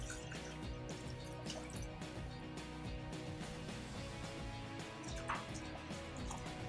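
Water running into a mixing container for silicone mold making, a faint, steady fill with occasional drips and ticks under a dense background.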